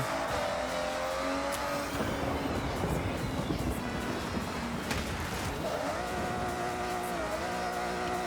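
A car engine drones steadily in a racing video game, with shifting revs and tyre noise throughout, loud and continuous with no voice over it.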